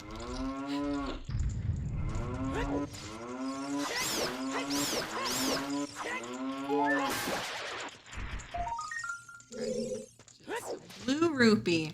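Cartoonish cow moos from the Zelda: Ocarina of Time game, a series of loud, wavering, drawn-out lows repeating in quick succession, followed by short tonal game chimes.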